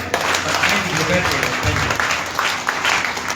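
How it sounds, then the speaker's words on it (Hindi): Dense, steady clapping from a church congregation fills the whole stretch, loud and continuous, with a few voices mixed in. "अरे जोरदार ताली बजाए।"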